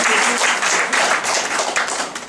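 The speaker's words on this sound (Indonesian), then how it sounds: "Tepuk tangan yang terdahsyat untuk Tuhan" A church congregation claps and applauds together, a dense, loud, continuous wash of hands that swells and dips slightly over a couple of seconds.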